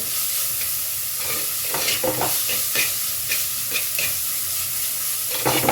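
Salted dry fish fries in a pan for a traditional dry fish chilli, a constant close hiss of oil broken by repeated sharp stirring and scraping strokes, with no voices.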